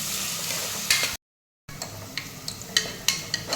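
Chopped onions fry in a pan with a steady soft sizzle, and bright scraping clicks from stirring come now and then. A short dead gap interrupts the sound midway.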